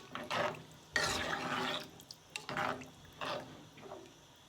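About a cup of liquid pours into a cooking pot of bacalao with yellow rice and ham, coming as several gurgling, splashing pours with pauses in between, close and moderately quiet.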